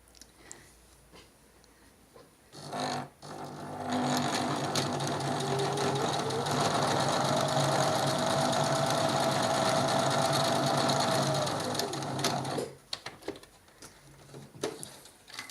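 A sewing machine stitches a French seam with a very small seam allowance, running in one steady, close, humming burst for about nine seconds between quieter pauses.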